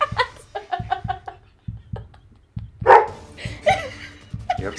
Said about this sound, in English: You're upsetting the dog right now.